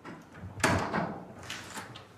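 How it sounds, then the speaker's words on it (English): The front door of a flat is unlocked with a key and pushed open: a sharp metallic clunk of the lock, then the door swinging open with rattles and knocks, fairly close. "The team are able to enter the flat with the front door key."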